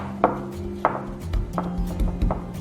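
Salted egg yolks being mashed in a bowl with a utensil, close up: a series of soft, irregular pressing and tapping knocks, several distinct strikes with no talking.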